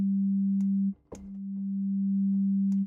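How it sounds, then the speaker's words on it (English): A synthesized singing saw tone from a Predator-3 software synth holds a pure, steady low whistle-like pitch, breaking briefly near one second with a click, then swelling back slowly and sustaining. "this singing saw sound"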